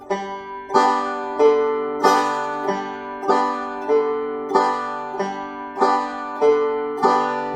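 A guitar is fingerpicked on open strings, the thumb alternating bass notes with three-finger pinches, in a steady, even rhythm of ringing plucks, close and clear.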